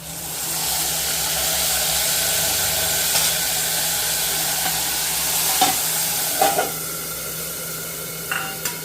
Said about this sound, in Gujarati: લસણ સંતળાઈ જાય એટલે આપણે મેં ટામેટાની ગ્રેવી કરી રાખી હતી તેના એડ કરીશું.